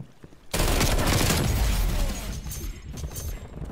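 Groza rifle gunfire in Call of Duty Black Ops Cold War erupts after a brief lull into a loud, rapid automatic burst that rattles on dense and close for a couple of seconds before thinning out.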